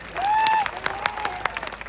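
A crowd at a political rally applauds to welcome party leaders, a brief burst of clapping that quickly fades into scattered claps.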